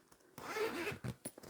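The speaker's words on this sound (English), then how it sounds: "We've got the recessed zipper on the inside there." A recessed zipper on a fabric bag with a single welt pocket is pulled open in one quick rasping run, followed by a few short soft rubs and clicks of fabric, close and quiet.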